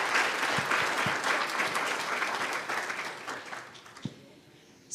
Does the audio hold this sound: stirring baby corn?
no